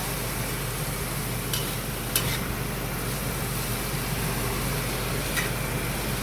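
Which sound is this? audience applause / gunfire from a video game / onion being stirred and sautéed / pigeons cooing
onion being stirred and sautéed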